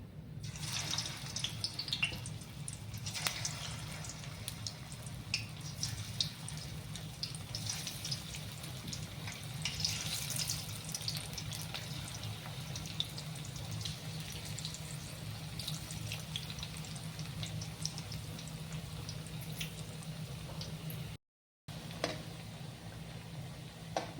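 Alu vadi (colocasia rolls) deep-fry in hot oil over a low gas flame with a soft, steady bubbling hiss that continues almost unbroken, apart from one brief dropout.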